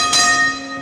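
A single bright strike of a Melbourne museum tram's bell rings close and loud, its clear metallic tone ringing on and fading over under a second.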